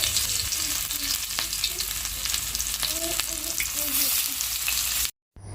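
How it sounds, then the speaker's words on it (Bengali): Banana flower fritters in a gram flour batter fry steadily on a hot tawa, giving a close, continuous sizzle and crackle with a few light stirring scrapes, and the sound cuts off briefly near the end. "সব কিছু দিয়ে একদম ভালোভাবে মেখে নিয়েছি আর তাওয়ার মধ্যে আজকে ভেজে নিচ্ছি"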